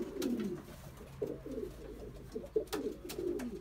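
A male breeding pigeon coos in a loft, repeated low throaty rolling calls in short bursts, close and clear, with light background rustle and occasional clicks.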